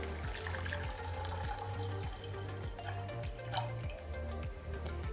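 Milk poured into boiling chocolate tea in a pot, a continuous liquid bubbling and gurgling with a steady pouring rush and recurring low glugs, faint and even throughout.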